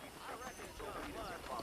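Horse hooves clip-clop in the Western game Red Dead Redemption at an even walking pace, moderately close, while people talk over them.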